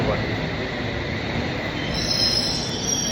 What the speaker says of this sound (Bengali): এক মিনিট ট্রেন চলে আসবে চলে আসছে